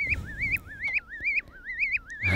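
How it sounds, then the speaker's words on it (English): An ARP 2600 synthesizer with an envelope FM patch makes bird-like chirps: a steady chain of bright warbling up-and-down sweeps, about two per second, close and clear with no voices. "So now we have birds chirping."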